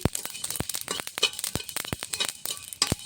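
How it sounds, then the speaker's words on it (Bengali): Poppy and mustard seeds dry roast in an ungreased pan, giving a rapid, irregular run of sharp popping crackles close up, steady throughout with no voices. "দেখো চটচট করে সর্ষের পোস্তটা ফুটছে"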